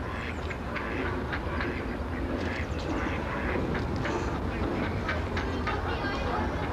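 Ducks quack repeatedly amid a busy outdoor wash of noise, with bursts of honking calls throughout and people talking nearby.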